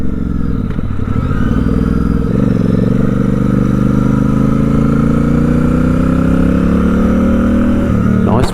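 Custom Royal Enfield Interceptor 650 motorcycle under way, its parallel-twin engine droning steadily with rising pitch as it accelerates, wind and road rumble mixed in, continuous and close throughout.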